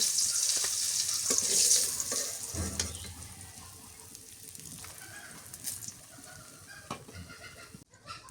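Vegetables frying in a pan for a Bangladeshi dish with radish and eggplant, a steady sizzle with stirring scrapes and a louder burst midway, close and continuous without talk.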